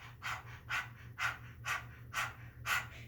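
A child imitates a panting puppy during preschool yoga, making six rhythmic, breathy huffs about every half second over a steady low hum, close and fairly quiet.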